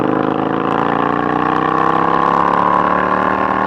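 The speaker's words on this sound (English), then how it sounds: "let me downshift, get into this thing" A motorcycle engine revs steadily and loudly during a downshift, a sustained droning tone slowly rising in pitch, heard close and alone with no talk.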